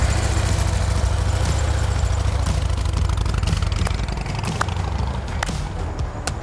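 Motorcycle engine running steadily while a beginner rider eases up the clutch in first gear, a loud, close, low rumbling idle with a slight drop in level toward the end.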